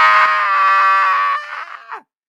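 A man imitates a child's scream with his voice: one loud, sustained, high shriek lasting about two seconds that wavers, then trails off into a short falling cry.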